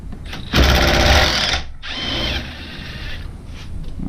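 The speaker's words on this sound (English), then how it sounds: "It is a 14mm socket on this steering wheel." Ratcheting of a socket wrench with a 14mm socket working a steering wheel bolt on a Jeep TJ, a loud close burst of rapid mechanical clicking, a brief pause, then a second quieter run.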